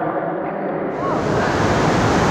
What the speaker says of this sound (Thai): น้ำก็ไหลอยู่ในถ้ำตลอดเลยนะ